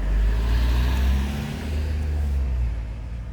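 Road traffic with many vehicles passing on a busy street, a steady loud rumble of cars and trucks close by with engine drone swelling and fading, no voices.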